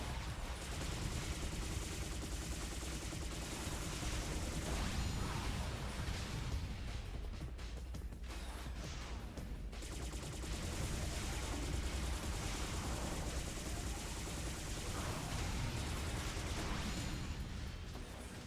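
Dense, continuous gunfire from the video game P.N.03, rapid bursts and blasts layered over each other at steady loudness throughout, with a short thinner stretch partway through.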